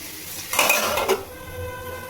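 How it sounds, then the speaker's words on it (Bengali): A metal lid clanks onto a cooking pot of hilsa fish head and vegetable curry on a gas stove, two quick clinks close together, then quiet simmering. "দেখুন এবার আমি এটা 5 মিনিটের জন্য একদম ঢেকে দেবো"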